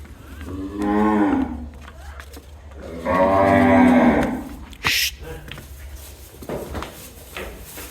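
Cattle in a dim shed give two long, loud, close moos a few seconds apart, followed by a sharp clank and quieter shuffling sounds.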